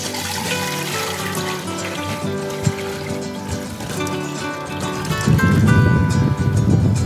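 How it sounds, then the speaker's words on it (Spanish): Water poured from a container into a cooking pot set on the stove to make chicha morada with purple corn, a steady splashing pour that swells louder near the end beneath continuous background music. "Voy a echar mi agua que esté llenito de la olla."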